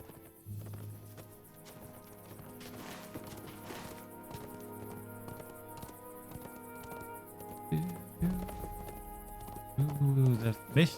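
Hooves of a slow horse clip-clop steadily in the Lord of the Rings Online game while it travels down a hill, a soft regular trot under game music, with a couple of louder bumps near the end.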